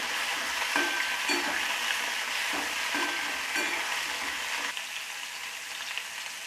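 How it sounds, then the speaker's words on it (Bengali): Cauliflower pieces, already boiled with salt and turmeric, fry in oil in a pan over medium heat to brown: a steady, close sizzle with soft rhythmic scrapes from stirring, and no voices. "আঁচটা মিডিয়াম করে আমি এটা 2 থেকে 3 মিনিট একটু ব্রাউন কালার করে ভেজে নিচ্ছি"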